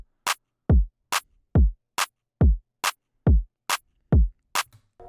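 An FL Studio drum pattern alternates evenly between crisp claps and deep, booming kicks, with each clap landing between two kicks in a steady, loud loop and no other sound.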